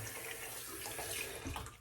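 Cold water runs steadily from a bathroom tap into a sink during a straight razor shave, a soft, even splashing stream heard faintly and close.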